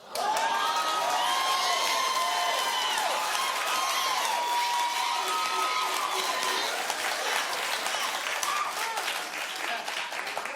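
A studio audience at a daytime talk show claps loudly and continuously, with scattered cheers and whoops mixed into the dense applause and a slight fade near the end.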